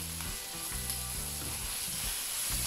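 Butter sizzles and fries in a pan while pork liver pâté is being made, a loud, steady crackling hiss close by, with some stirring scrapes underneath and no talking.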